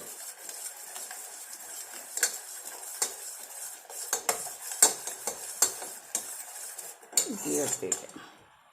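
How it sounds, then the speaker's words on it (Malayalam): A utensil stirs and scrapes rice-water hair dye in a metal pot, giving repeated close clinks and knocks of metal on metal, loudest toward the end, with no talking. "അതുകൊണ്ടാണ് ഇളക്കി കൊടുത്തുകൊണ്ടിരിക്കുന്നത്"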